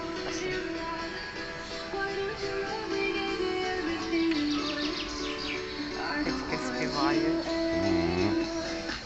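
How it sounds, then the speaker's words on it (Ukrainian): Birds chirp and sing outdoors in a park, with repeated bright tweets and trills over a steady background hum and some distant speech. "пташечки співають, да"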